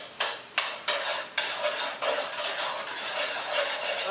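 A spoon stirs canned pumpkin into a pot of sausage soup, producing a series of wet scraping, sloshing strokes in an irregular rhythm, close and moderately loud with no talking.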